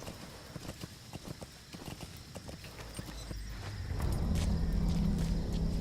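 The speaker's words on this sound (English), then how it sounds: "Stupid horse." Horse hooves clip-clopping in a steady walking rhythm in Metal Gear Solid V: The Phantom Pain, fairly close, before a low rumbling noise swells up and covers the steps.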